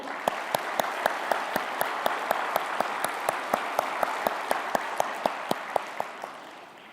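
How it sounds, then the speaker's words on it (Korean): A church congregation claps together in rhythm for the choir, a loud, steady unison beat of sharp claps about every third of a second over a dense wash of applause, fading near the end. "우리 다시 한번 찬양대 위해서 한번 박수 한번 해볼게요."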